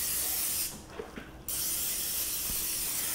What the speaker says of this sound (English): I usually give them like one more spray just to make sure that there's an even coating